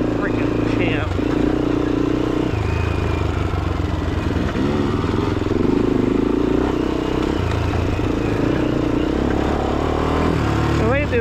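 A 2004 Honda 400EX quad and a 2023 KTM 250XC ride off-road, with close, continuous engine revving and rumbling plus rattling and clatter from rough terrain, as people talk over the noise.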